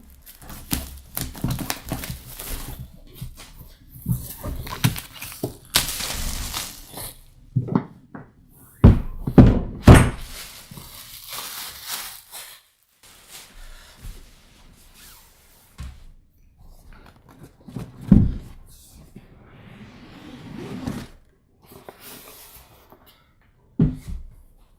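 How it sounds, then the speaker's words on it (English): The Attack! Deluxe Edition board game box is unpacked, with scattered thumps, cardboard scrapes, lid knocks and rustling of contents in bursts separated by quiet gaps. "So we're going to get this opened up."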